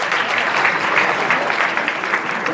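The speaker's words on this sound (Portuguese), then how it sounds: "Uma salva de palmas aqui para ele." A crowd at a Cariri Cangaço cultural event in Fortaleza claps in a loud, steady round of applause that carries evenly through the whole moment.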